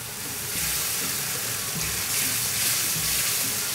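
Chicken curry with butter and homemade tomato paste sizzling and frying in a pan, a steady close hiss of moderate loudness with no talking.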